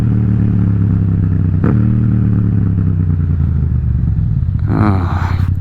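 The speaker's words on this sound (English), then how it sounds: "I don't know if I should even talk over this bike. It's music." A motorcycle engine runs steadily while riding, a loud, close, even throb with a brief clatter partway through and a rising rush of air near the end, with no talking.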